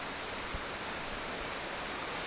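The Swallet waterfall makes a steady, dense rushing roar heard close by, an unbroken wash of falling water with no gaps or voices.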